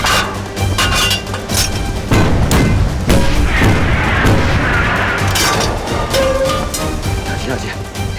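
Artillery shelling in a war drama: continuous loud booms and crashing blasts fill the scene, with shouted voices mixed into the dense battle noise.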